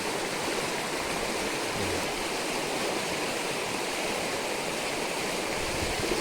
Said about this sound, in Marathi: आणि बघा किती पाण्यात आहे पाण्याचा स्पीड बघा